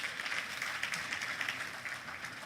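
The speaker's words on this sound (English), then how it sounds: "can we give him a big round of applause?" Faint, steady applause from a conference audience at the NES 66th Conference, a continuous soft patter of many hands clapping with no pause over a couple of seconds.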